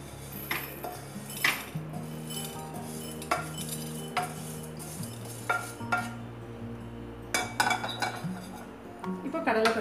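Dry lentils (dal) are roasted and stirred in a pan with a utensil, giving scattered scraping clinks and taps against the metal under a steady hum, while someone talks over it.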